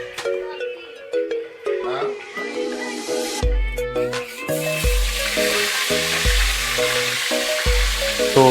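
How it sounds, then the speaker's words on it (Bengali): Fish frying in a homestay kitchen in the Sittong hills of Darjeeling gives a steady hiss and sizzle, brightening midway, under loud melodic tones and bits of nearby talk. "এখন মাছ ভাজা চলছে"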